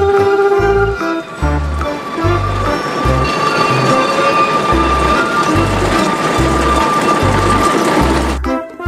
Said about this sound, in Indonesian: Yang ini ada kereta Thomas